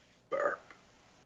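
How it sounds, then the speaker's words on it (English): A single short burp about a quarter second long, fairly loud and close, standing alone against quiet room tone with no talking around it. "Burp."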